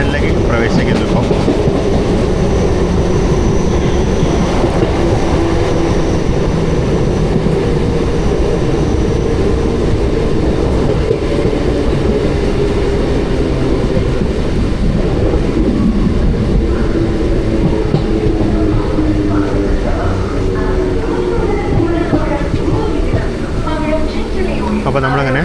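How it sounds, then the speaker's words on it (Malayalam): An early-morning MEMU passenger train rolls into Aluva station in Kerala, a loud, continuous rumble of wheels and carriages heard from inside the coach that carries on for the whole stretch, with a voice talking over it. "നമ്മൾ ജസ്റ്റ് ആലുവ സ്റ്റേഷനിലേക്ക് പ്രവേശിക്കുന്നു"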